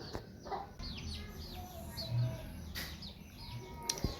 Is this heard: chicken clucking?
yes